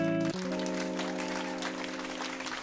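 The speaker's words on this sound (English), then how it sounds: "nous allons les accueillir en les applaudissant" Audience applause at an evening storytelling gathering, welcoming first-time attendees: dense, steady clapping from a room of people with a sustained hum underneath, continuing evenly throughout.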